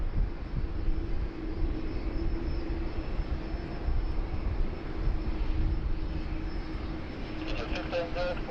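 An Air India Boeing Dreamliner jet taxis at Sydney Airport, giving a steady, continuous engine rumble and hum throughout, with a brief higher whine near the end and voices talking over it.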